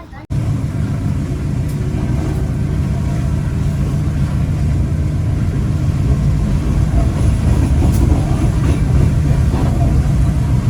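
Interior of the local Merak commuter train running between stations, a steady loud low rumble and rattle of wheels on track that sets in abruptly and holds evenly throughout.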